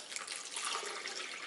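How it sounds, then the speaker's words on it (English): Water pours into a blender for beghrir pancake batter, a steady soft splashing rush lasting the whole moment, close and fairly quiet with no talk. "So I'm going to add in my water first"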